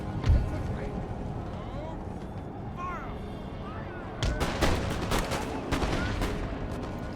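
Musket volleys and artillery in the Empire Total War British campaign battle crack across a constant battlefield din, with a denser burst of shots in the second half.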